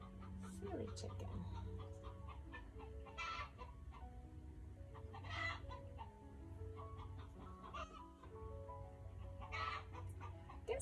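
Hen clucking repeatedly in short, uneven bursts at close range, with a rooster-like call mixed in, while someone talks quietly over the birds.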